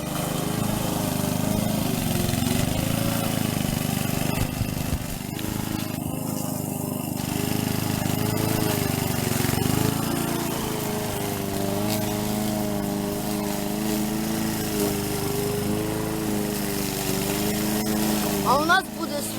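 A lawn mower engine drones steadily and loudly close by in a garden, holding a constant pitch throughout, while people talk over it.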